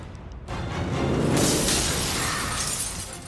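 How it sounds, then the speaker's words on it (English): A pickup truck rams through the glass front doors of a Harris County courthouse in Pasadena, Texas, during a robbery attempt, giving one loud shattering crash that spills into a sustained scatter of breaking debris. "Smashing right through the front doors is this pickup truck."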